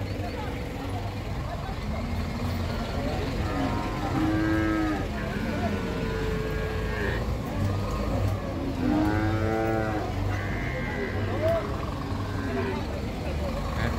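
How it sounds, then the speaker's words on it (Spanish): Cattle at an open-air livestock market moo twice, mid-distance, over steady crowd chatter and traffic noise, each call a long drawn-out low. "Vaca"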